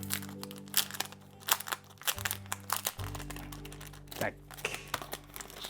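A wrapped parcel from an order is opened by hand, with close crinkling, rustling and tearing of paper packaging in irregular bursts while a person talks over it.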